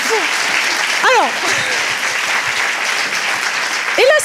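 Audience applause in a steady, dense wash of clapping, loud and continuous throughout, with brief voices and whoops rising over it now and then.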